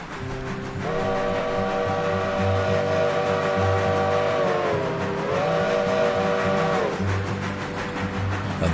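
An old steam locomotive on the Rocky River Railroad in the video game Railroader pounds through a station, its loud whistle sounding long and steady over rumbling wheels and chuffing, bending in pitch midway before fading.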